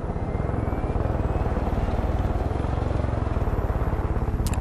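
Video game helicopter in Far Cry 5, a steady rapid rotor thump under a droning engine hum, continuous and moderately loud with no talk over it.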